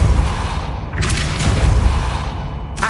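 Depulso force spell cast in Hogwarts Legacy, a dense rumbling low-end blast with a brighter whooshing burst and a sharp flick near the end, loud and continuous with no talk over it.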